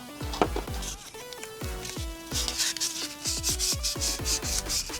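Steady rhythmic rubbing strokes of 800-grit sandpaper on a metal brake caliper piston, close and moderately loud, with light scraping and occasional small knocks.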